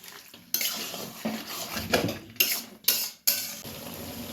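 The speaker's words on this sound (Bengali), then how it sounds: "এখন মশলার সাথে মাংসটা ভালো করে মিশিয়ে নিচ্ছে।" Duck meat with spices is stirred in a pot, a spoon scraping and clanking against the metal in repeated bursts, close and fairly loud with a soft sizzle beneath.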